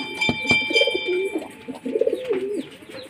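Madrasi pigeons, a paired male and female kept at home for breeding, coo in soft repeated throaty phrases close by, with a few wing flutters and taps between the calls.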